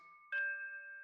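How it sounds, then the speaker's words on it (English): A mysterious box chimes in an audio drama, giving one clear bell-like ding-dong strike that rings on with a steady, slowly fading sustained tone, alone and without any voices. "the box began to vibrate and chime"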